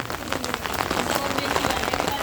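Heavy rain pours steadily on surfaces outdoors, a dense, continuous hiss with scattered drop impacts throughout, loud and unbroken with no voices.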